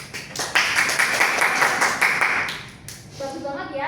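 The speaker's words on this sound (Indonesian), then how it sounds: "Kasih tepuk tangan dong." Students in a practice teaching class clap their hands together in a brief burst of quick, fairly loud claps that stop abruptly, followed by a teacher's voice.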